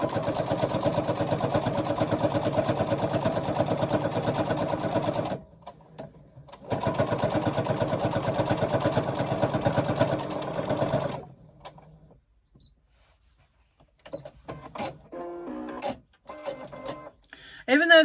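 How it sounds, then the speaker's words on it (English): A domestic sewing machine stitches a 3/8 inch handbag seam in two loud, fast, steady runs with a short gap between them. It then falls quiet, and a voice speaks near the end. "Then do your 3/8 inch seam all the way down"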